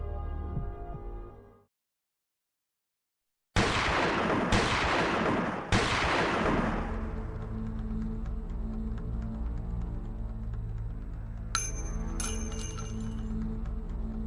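Gunshot sound effects in a hijacked Lebanese television broadcast: loud, sharp bursts of fire, several shots in quick succession, after which a harsh sustained noise continues with another burst later on.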